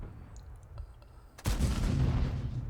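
A heavy SU-122 tank gun in a video game fires once, a sudden loud broadband blast that rolls into a sustained rumbling roar after quiet low engine noise.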